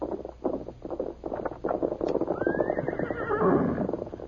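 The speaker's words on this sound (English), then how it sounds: "Horse coming." A horse neighs and whinnies loudly close by while hoofbeats clip-clop nearer, the whinny rising over the steady trotting toward the end, in an old NBC Lone Ranger radio drama.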